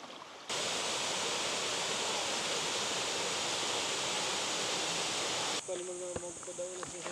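Clear mountain river water rushes loudly and steadily in the Rizal Mountains of Tanay during a hike, a continuous close roar of flowing stream, briefly under faint voices near the end.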